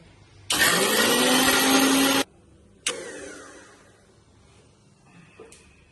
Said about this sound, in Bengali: দারচিনি আর লবঙ্গ চারটে দিয়ে শুকনো খোলায় ভেজে ঠান্ডা করে রেখেছি। এটা গুঁড়ো করবো এবার।